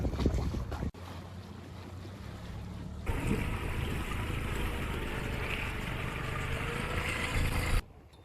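A dinghy lowered from a yacht on a mooring heads in to shore, its outboard drone steady and fairly loud under heavy wind buffeting and water wash, running for several seconds before cutting off abruptly.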